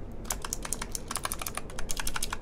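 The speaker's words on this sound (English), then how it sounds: "purple clicky switch keyboard" Typing on a Razer Huntsman V2 keyboard with purple clicky switches: rapid, crisp, sharp clicks in an irregular steady stream, close and fairly loud, with no talking.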